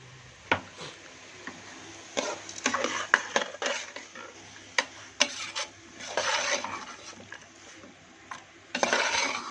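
Masala stirred into a broad bean curry in a pot, with irregular scraping and clinking of a spoon against the metal and soft rubbing between strokes, close and alone.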